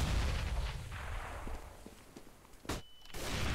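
Grenade blast in Counter-Strike: a sharp, loud detonation bursts out near the end, following a stretch of quieter gunfire and game noise.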